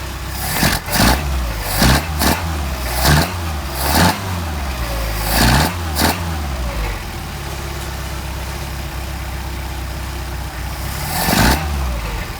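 A Mercedes 190SL engine running on Solex carburetors is blipped up sharply about eight times in an uneven rhythm, then settles into a steady idle before one last rev, close and loud with no talking.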